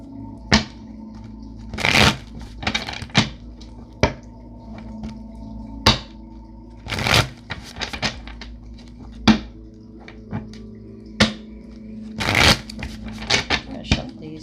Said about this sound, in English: I'm going to shuffle these at least 3 times.